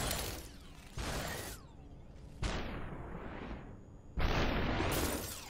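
Gunshots in the slow-motion shooter SuperHot: three separate sharp blasts, each followed by a decaying ring, spaced about a second and a half apart, close and fairly quiet, with no voices.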